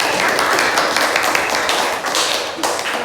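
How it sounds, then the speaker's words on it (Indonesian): A classroom group claps, a dense, even patter of hands lasting about three seconds, fairly loud and close. "Baik, kasih tepuk tangan."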